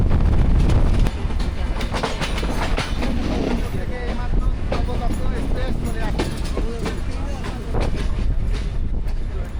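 Passenger train moving on rails, heard from inside with a loud steady rumble and repeated clickety-clack of wheels over joints, with voices talking under the noise.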